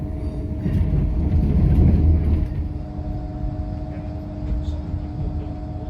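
A TransPennine Express train runs near Manchester Victoria, heard from inside as a steady low rumble with a faint constant hum, swelling louder for a couple of seconds before settling back to an even drone.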